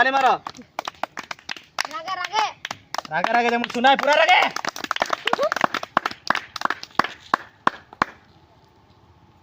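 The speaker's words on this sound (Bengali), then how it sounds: "তালি মারো" Several people clap their hands in a quick, irregular burst, close by and mixed with loud talking voices before fading out.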